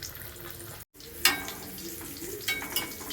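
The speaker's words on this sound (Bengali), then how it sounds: "তেলটা আমার গরম হয়ে গেছে, আমি আস্তে করে ছেড়ে দিলাম কচুরিটা" Kachori slipped into oil that is not yet fully hot gives a steady close frying sizzle, with a brief dropout and a few sharper spatters and clinks as it cooks.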